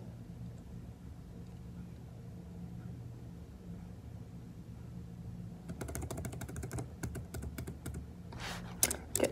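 Someone types a row of dashes across a page on a computer keyboard, a quick burst of close, crisp key clicks arriving in the latter part over a steady low room hum.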